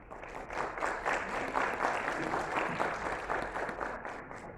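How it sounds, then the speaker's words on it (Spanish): Sustained audience applause fills a forum hall, a dense, even wash of clapping from a crowd that holds steady for several seconds before starting to thin. "Recibámosla con un buen aplauso."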